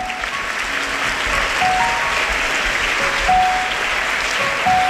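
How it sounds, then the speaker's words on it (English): A school audience applauds newly selected student council members at an investiture ceremony, with sustained clapping from a crowd and faint tones ringing through it. "Let's congratulate our newly selected SRC members with a thundering round of applause."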